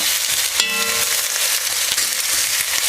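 Poultry pieces brown in their own skin fat in a pan for a brown stock, a dense close sizzle and crackle throughout, with a brief metallic clink near the start.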